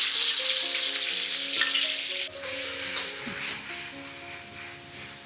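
Javanese fried rice (sego goreng) frying in a pan with its spice paste: a continuous close sizzle with stirring and scraping throughout, and a faint tonal hum underneath.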